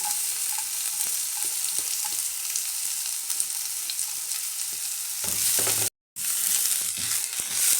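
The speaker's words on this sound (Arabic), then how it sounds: "أنا مش هحمر البصل، بس هدبله، بس خليه يدبل بس مش أكتر. معاها فصوص الثوم." Onion and garlic sauté in a pan with a steady, bright sizzle and occasional scraping stirs. The sizzle cuts out for a moment near the end, then resumes. No one speaks.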